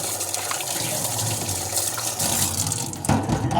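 Water running from a tap into a sink, a steady broadband rush that holds throughout and swells louder near the end, with no clear voices over it.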